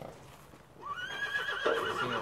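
A rodeo horse lets out a loud, rising then falling whinny near the microphone, following a quieter stretch with low background rumble.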